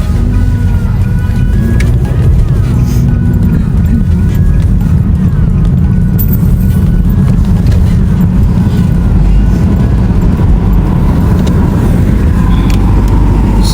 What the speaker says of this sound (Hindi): तो ये है जी कमल की ड्राइविंग और हम जा रहे हैं।